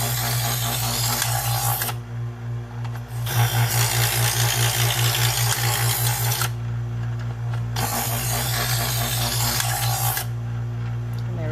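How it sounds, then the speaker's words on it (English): A Chef's Choice electric knife sharpener buffs a serrated knife, giving a steady motor hum with gritty grinding passes that cut in and out in several bursts, no talking. "for the serrated, I'm just going to do the buffer"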